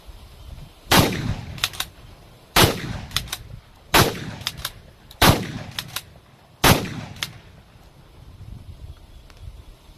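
An SHS STP12 straight-pull shotgun fires five loud, close shots in quick succession during a speed test, each blast followed by a short echo and faint mechanical clacks.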